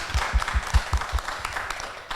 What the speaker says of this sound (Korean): 박수 한번 정말 부탁드리겠습니다